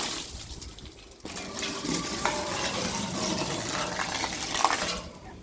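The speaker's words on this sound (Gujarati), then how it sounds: "પાણી નાખી દઉં" A bucket of water is thrown across a rooftop terrace to wash it. After a quiet start, a sudden rushing splash runs for about four seconds, then dies away.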